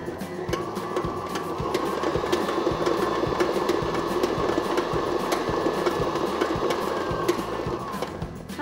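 Electric hand mixer whirring steadily through cupcake batter with vanilla extract and oil for Mexican hot chocolate cupcakes, a continuous close motor hum with faint rhythmic beating against the bowl.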